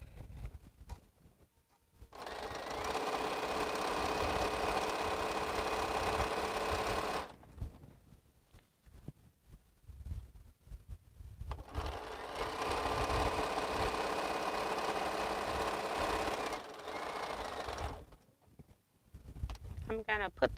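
A sewing machine stitches quilt pieces in two long, steady runs, each lasting several seconds and separated by short pauses, its motor humming evenly up close.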